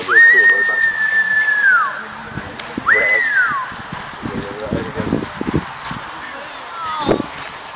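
Two sharp, sustained human whistles calling a hawk at a hawk display, the first long and the second shorter, over outdoor ambience with some rustling and splashing afterward.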